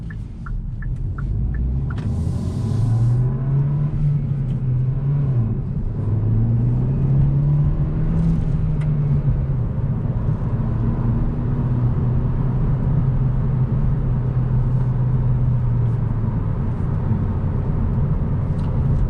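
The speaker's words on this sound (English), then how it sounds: "driving this 2021 Hyundai Elantra nline. Drives nice and smooth and very quick." A 2021 Hyundai Elantra N Line with a six-speed manual transmission on the road: a loud, steady engine drone and cabin rumble with pitch rising and falling through revs, constant throughout, no talking.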